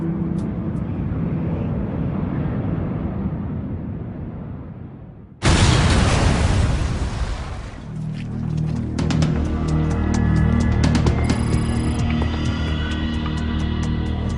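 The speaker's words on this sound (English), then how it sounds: "an explosion rips through Tokyo's Narita airport" A bomb explosion at Tokyo's Narita airport bursts in suddenly and loud after a stretch of low rumbling, then gives way to a sustained roar with scattered crackling debris.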